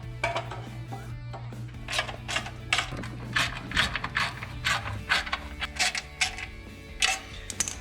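Ratchet tightening the flywheel nut on a 212 Ghost small engine, a series of repeated clicking bursts at close range over a steady low hum, irregular in rhythm across the stretch.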